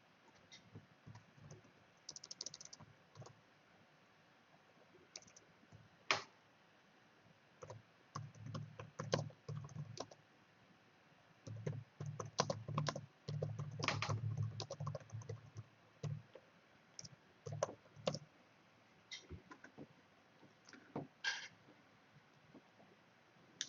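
Keys clatter on a computer keyboard in irregular bursts of typing, quiet and close, with pauses between flurries and no one talking.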